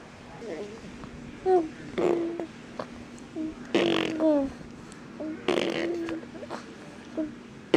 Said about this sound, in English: started blowing raspberries, even with her tongue going